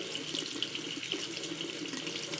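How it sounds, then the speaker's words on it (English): Tap water runs steadily into a sink as a potato is scrubbed and rinsed under it, a close, continuous splashing stream with faint shifts as the potato moves through the flow. "Scrub, rinse, wash off your potato, get all the dirt off of it."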